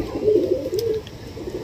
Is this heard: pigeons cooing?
yes